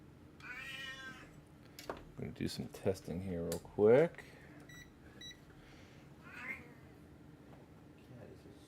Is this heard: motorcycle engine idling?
no